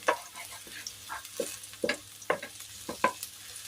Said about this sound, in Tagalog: Golden brown muna natin yung garlic natin